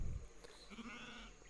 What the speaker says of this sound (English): Look at all the Kurkul sheep he already has